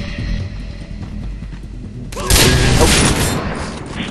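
Sudden loud gunfire burst in the co-op shooter Far Cry 3, breaking in over low game ambience with a dense crack of several shots that rings on briefly.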